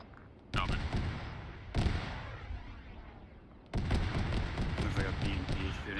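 A BMP armored vehicle fires in the military game Arma 3, with heavy, booming bursts of cannon fire from a distance and sustained rumbling gunfire, while voices talk over the radio.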